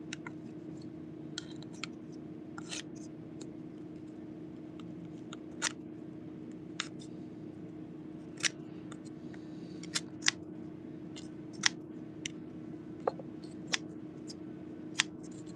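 Cheap Harbor Freight scissors snip in short, sharp clicks during a live painting session, scattered irregular cuts that grow more frequent toward the end over a steady low electrical hum, with no talking.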